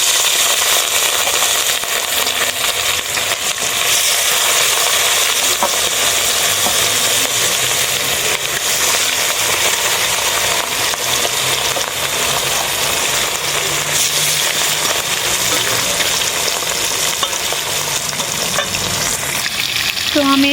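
Fish pieces from a large 4 kg glass carp fry steadily in hot oil in a kadai, a loud, continuous sizzle with occasional crackles running throughout, no talking over it.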